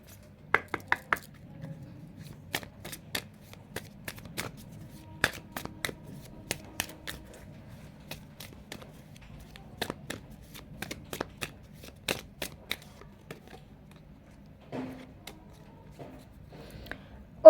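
Angel Answers cards are shuffled in quick, quiet riffles and taps, a string of crisp paper flicks spread across the clip in a near, hushed room.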